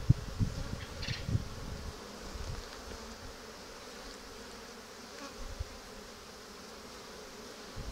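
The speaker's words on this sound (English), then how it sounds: "Well, there's a lot of bees up here," Honeybees buzzing steadily at a hive during an inspection, a low continuous drone close by with a few louder passes near the start, no talking.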